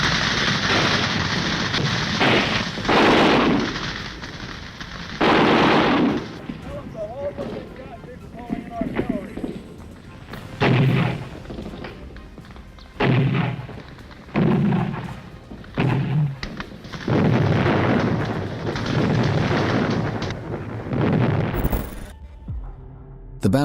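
Gunfire and artillery in a Viet Cong ambush on American vehicles along a road, with heavy booming blasts and bursts of fire recurring every few seconds under a narrating voice.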